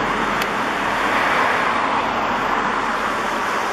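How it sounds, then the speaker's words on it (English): Road traffic rolls along near a waterfront bike and walking trail in Sitka, a steady, moderately distant wash of tyre and engine noise with no clear breaks. "You have traffic."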